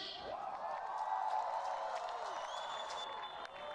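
Crowd at the Motegi Racing Super Drift Challenge at the Acura Grand Prix of Long Beach cheering and whooping for the winner, a sustained distant roar with scattered shouts, an announcer's voice mixed in.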